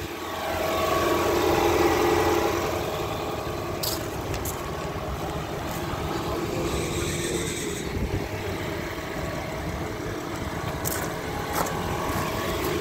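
A 2016 Lexus ES 300 hybrid with a 2.5 engine sitting at idle, giving a low steady hum with faint background noise and a few brief higher clicks, no voices.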